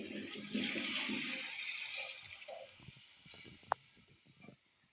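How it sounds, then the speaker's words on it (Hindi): Water is poured into a pot of frying vegetable pulao, a brief rushing pour and sizzle that fades to quiet bubbling and small clinks. "अब हम इसके अंदर ये पानी ऐड"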